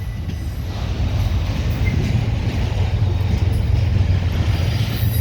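Grain freight train rumbling past at Fostoria, Ohio, a steady low roar of rolling wagons with faint wheel noise, close and continuous for the whole stretch with no talking.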